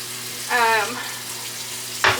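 Tap water running while a greasy pan is washed with dish soap, a steady faint rush with a brief gurgling splash and a sharp clatter near the end.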